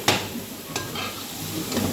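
A spoon scrapes and knocks around a cooking pot while mustard greens for sarson ka saag are stirred, sharp clinks standing out over a steady sizzle of frying.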